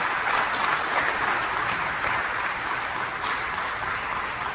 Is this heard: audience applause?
yes